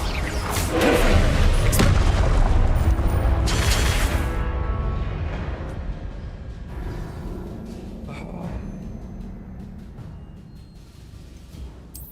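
A Confringo fire spell blasts in the Hogwarts Legacy game, a loud booming burst with a whooshing rush that slowly rumbles away and fades over several seconds.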